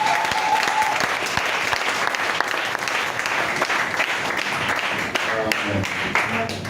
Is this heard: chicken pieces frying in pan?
no